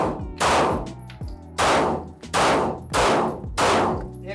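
Pistol gunshots ring out during a weak-hand shooting drill with Glock handguns, five loud, close reports at a steady rhythm about every 0.7 seconds, each with a ringing tail.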